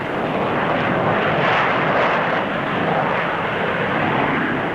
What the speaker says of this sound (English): a Canberra B-2 takes off with extra boost from a Napier Scorpion rocket engine